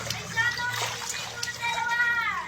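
Water splashes and sloshes around people bathing outdoors, with children's voices and nearby chatter mixed in over a steady background hum.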